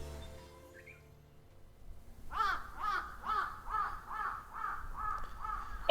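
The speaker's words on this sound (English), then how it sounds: "A crow." A crow caws again and again, about eight harsh calls in a steady rhythm over a low background hum, fairly loud and close.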